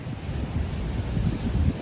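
Pacific Ocean surf rolling in at the Oregon dunes on a misty day, a steady low wash of breaking waves mixed with wind buffeting the microphone.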